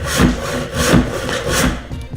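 A handsaw cutting through timber on a bench: three loud, even rasping strokes in a steady back-and-forth rhythm, close and unaccompanied.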